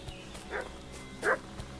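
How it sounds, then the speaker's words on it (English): A dog barks in the medieval village of the video game Kingdom Come: Deliverance II, two short distant barks over quiet ambient background. "What's that dog making such a fuss about?"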